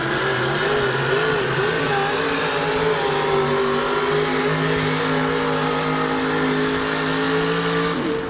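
A truck at a 1988 USHRA event in Kansas City drags a weighted sled in a truck pull, its engine droning loud and steady under strain for several seconds, with a slight pitch shift near the end.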